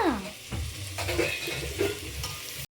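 Turmeric and salt get stirred into food sizzling in a pan, with scraping stirring strokes over a steady fry, ending in a brief sudden cut-out.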